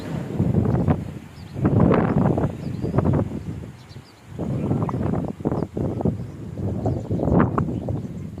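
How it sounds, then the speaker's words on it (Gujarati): Strong wind buffets the microphone in heavy, surging gusts during a rainy spell, roaring loudly for a couple of seconds at a time with brief lulls between blasts. "પવન એટલો છે ફૂલે ફૂલ"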